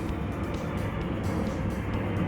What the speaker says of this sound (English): By the way, airplanes are flying overhead.